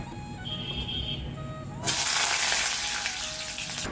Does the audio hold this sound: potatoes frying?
yes